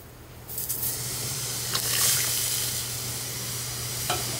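Turmeric goes into a hot oil tempering for dal, which gives a steady, close sizzle and hiss with a few sharper bursts of spattering and stirring.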